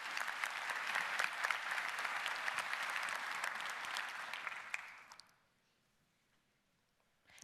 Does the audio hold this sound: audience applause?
yes